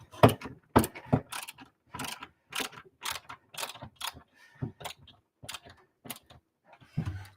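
A screwdriver bit drives screws into an Arcade1Up cabinet during a build, giving a close series of evenly spaced ratcheting clicks and creaks with short pauses between turns and no talking.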